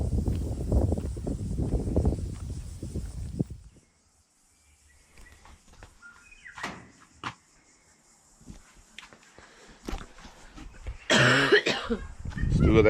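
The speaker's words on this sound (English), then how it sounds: "Still got that cough." Someone coughs and clears their throat outdoors at a rural property, a cluster of harsh bursts up front, then scattered quieter coughs among insect and bird sounds.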